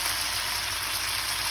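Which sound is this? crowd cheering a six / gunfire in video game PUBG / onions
onions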